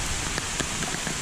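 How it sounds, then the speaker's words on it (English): Steady rain falling on a graded gravel driveway, a dense, even hiss with scattered individual drop taps, close and continuous. "The rain is definitely diverting off to the left here."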